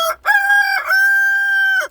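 A rooster crows once at a rural country home, loud and close, a long drawn-out call with a short rising start and a sustained held note.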